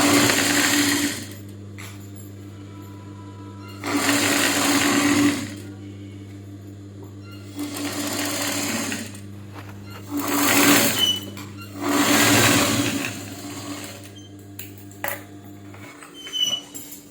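A sewing machine stitches a square handkerchief hem in short bursts, five or so separate runs of rapid mechanical whirring with pauses between them and a steady low hum underneath.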